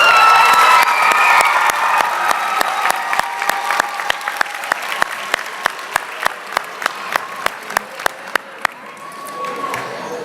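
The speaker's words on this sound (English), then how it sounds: "Please, teachers, take a stand so we can give you an applause." Audience at a grade 12 graduation ceremony applauds and cheers for teachers, loud crowd clapping with shouts that thins out into a few sharp individual claps before fading.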